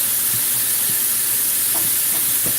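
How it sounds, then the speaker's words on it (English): Grease draining from cooked ground chuck gives a steady, hissing sizzle with a few faint soft taps and no talking. "right now I'm just draining. It's not much grease from the ground chuck."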